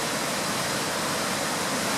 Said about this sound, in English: I think this is that big waterfalls.